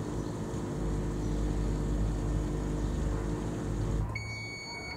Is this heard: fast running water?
no